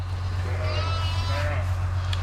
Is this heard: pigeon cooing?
no